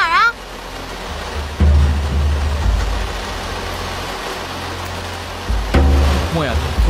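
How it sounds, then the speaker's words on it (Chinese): Heavy rain pours down in a continuous broad hiss, with low rumbling swells and musical tones rising and falling underneath in a dramatic scene. "下这么大雨，你别去了"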